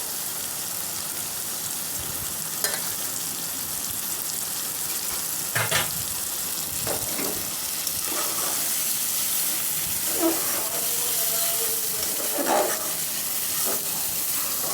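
Moulandi fish sizzle steadily in hot oil, a continuous crackling hiss close by with a few scattered clinks and stirring knocks, and no voices.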